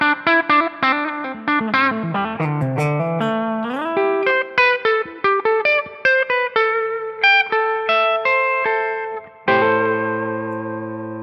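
Distorted electric guitar through a PRS 85/15 bridge pickup plays a run of quick picked notes and chords, ending on a loud ringing chord, heard alone and up close.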